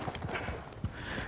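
A horse's hooves clip-clop on a ranch as a cowboy rides, a brief run of sharp, uneven hoofbeats up close.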